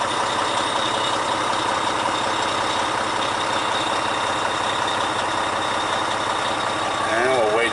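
A heavy-duty truck engine idles with a steady, dense rumble throughout, rising slightly near the end, while a person speaks over it.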